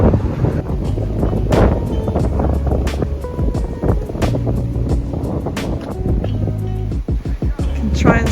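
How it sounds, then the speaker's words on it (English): Strong wind blowing in Perpignan, loud gusts buffeting the microphone in rough bursts throughout, with street sounds and snatches of voices mixed in. "Trying to demonstrate how windy it is."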